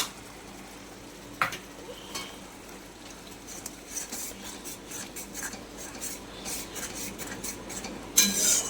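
A spoon scrapes and stirs katla fish kalia masala in a pan, with soft rasping strokes, a sharp clink early on, then busier scraping and a louder knock near the end.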